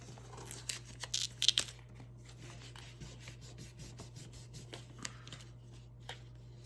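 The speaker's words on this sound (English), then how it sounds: "You just rub it back and then try again." Buffalo check pattern pieces rubbed down by hand onto a heart banner, giving soft dry scraping and crinkling strokes in a short cluster, then quieter intermittent rubs, close and alone.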